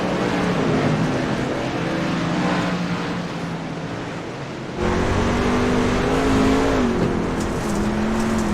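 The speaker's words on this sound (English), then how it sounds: "Oh, the sweet, sweet sounds of those trucks" Racing trucks roaring around virtual clay at Eldora in a video game truck series, a continuous loud engine drone with shifting pitch that jumps louder midway as the pack surges.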